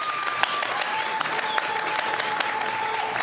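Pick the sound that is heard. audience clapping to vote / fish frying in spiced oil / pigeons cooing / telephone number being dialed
audience clapping to vote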